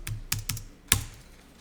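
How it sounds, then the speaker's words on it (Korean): Four crisp key clicks on a computer keyboard, the Tab key pressed during accounting software data entry, evenly spaced with the last one loudest, close and alone with no talking. "탭키 눌러서 확인해 봅니다"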